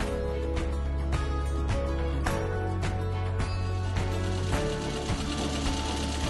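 A JUKI sewing machine runs in a steady rapid stitching rhythm, with a low motor hum under evenly spaced mechanical ticks, loud and continuous with no voices.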